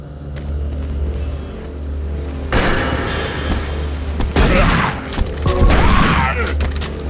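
Gunfire in Doom 3 BFG VR: loud bursts of shots with sharp attacks and ringing decays, repeating over a low droning game ambience.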